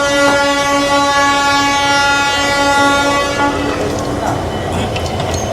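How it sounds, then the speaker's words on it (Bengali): At Santragachi station, the Santragachi–Tambaram Amrit Bharat Express sounds a loud, sustained horn blast for several seconds. A rumbling rail and platform din follows, with voices talking nearby. "তো এটাই হলো সাঁতরাগাছি তাম্বারাম অমৃত ভারত এক্সপ্রেস।"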